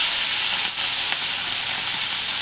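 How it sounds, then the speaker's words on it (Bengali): Chicken fries in hot oil in a pan for chicken curry, a steady dense sizzle and hiss filling the whole stretch, close and loud, with a faint brief clink and no voices. "তারপর এই যে চিকেনটাকে ভেজে নেব।"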